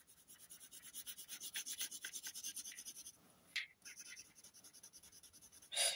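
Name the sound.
drawing with a pencil on paper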